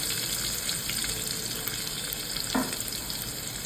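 Garlic and one or two green chillies fry in hot oil with curry leaves and asafoetida, a soft, even hiss of sizzling with one brief stir partway through, close but fairly quiet.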